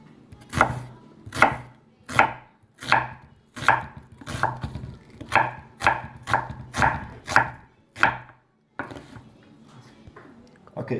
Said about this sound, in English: I'm gonna slice the onion like this thickness here